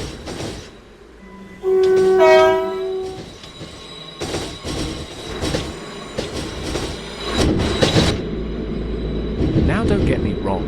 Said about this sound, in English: Here we have a London North Western Railway Class 230.